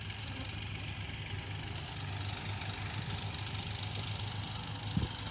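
An engine idles with a steady low rumble and hum, constant throughout, with a brief knock near the end.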